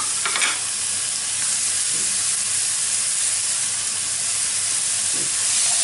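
Onion frying in a pan with green beans, garlic and salt gives off a steady, bright sizzle and hiss that runs the whole time, with a few soft stirring scrapes.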